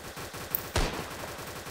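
A single sharp gunshot cracks out in a Roblox zombie game over a steady, pulsing game soundtrack, close and clear, with no talking.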